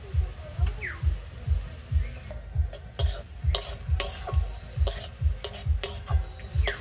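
Greens stir-fried with fried eggplant in a pan, a steady rhythmic scraping of the spatula repeating about once per second over a soft sizzle, close and moderately loud.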